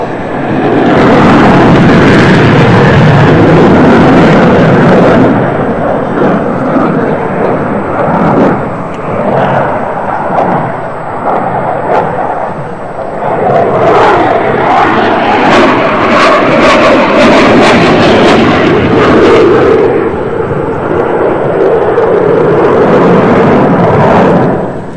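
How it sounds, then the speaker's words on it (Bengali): A MiG-29 fighter jet's afterburner at a Victory Day parade flypast: very loud, surging roars with crackling bursts, easing briefly in the middle before swelling again. "আপনারা উপভোগ করলেন MiG-29 বিমানের আফটার বার্নার টান"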